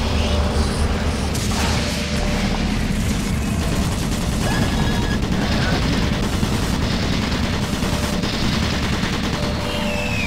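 Automated turret guns in Doom 3 fire continuously in a monorail area, a dense, loud, sustained barrage that lasts throughout with no pauses.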